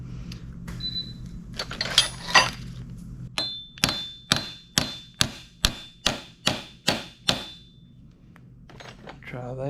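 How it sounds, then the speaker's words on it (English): Around ten sharp metallic hammer taps on a shaft while repairing a Sea-Doo iBR actuator, in a steady, evenly spaced series, loud and close, each with a brief ringing decay, preceded by a few irregular knocks. "I need to take a hammer and tap that onto the shaft."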